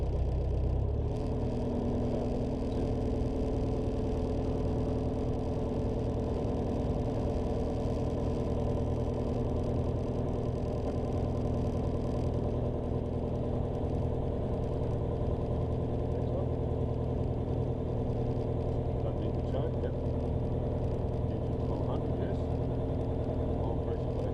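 A light aircraft engine idles at about 1200 rpm with a steady, even drone throughout, while a person talks over the noise.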